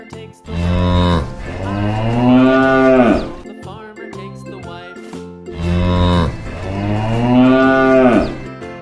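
A cow moos loudly twice, each call long and drawn out, with a brief pause between and faint bell tinkles in the background.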